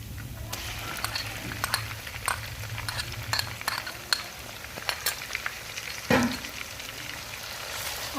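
Onions frying in hot ghee with garlic and ginger in a pan, a steady, close crackling sizzle with scattered pops and occasional stirring scrapes.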